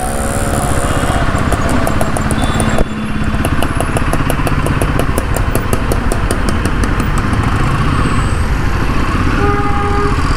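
A Royal Enfield Himalayan 450 motorcycle on the move, its engine a loud, steady drone up close with a strong buzzing rumble and a brief dip near the start, mixed with wind noise.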